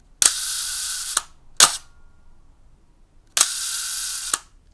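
A space-flown camera fires its shutter with a sharp click and its clockwork motor whirs to wind the film, a roughly one-second burst, followed by a brief click and then another full winding run, close and loud, with no talk.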